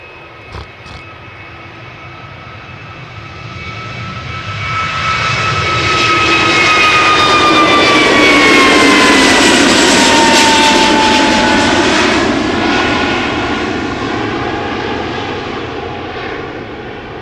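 An Airbus A321neo jet takes off from Schiphol's Polderbaan runway, its engine roar rising from a steady distant rumble to a loud, broad sustained blast with whining tones, then slowly easing off as it climbs away; no talking.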